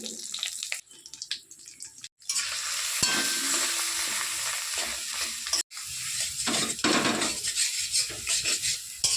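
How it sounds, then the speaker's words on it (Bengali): Boiled taro corms fry in oil with salt and turmeric, a loud, close sizzle broken by a couple of abrupt pauses and the clatter of stirring in the pan. "লবণ আর হলুদ দিয়ে মুখিগুলো ভেজে নেব।"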